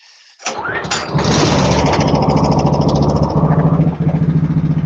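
A four-stroke snowmobile engine cranks briefly, catches and settles into a loud, steady idle close by, its even pulsing running without interruption to the end.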